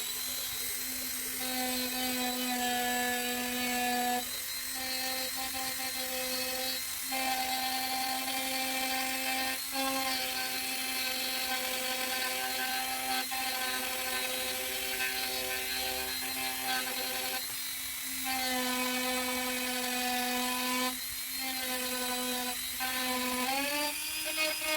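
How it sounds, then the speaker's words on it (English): A Dremel rotary tool carves a wolf head pendant from crimson red wood with a steady high-pitched whine. The pitch dips briefly now and then as the bit bites into the wood, and it runs alone without talk. "I'm going to use my Dremel that I can only use for carving."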